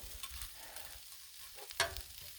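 Pork fried rice sizzles on a Blackstone griddle, a steady close frying hiss with a few light scrapes and one sharp clack of a utensil against the hot flat top.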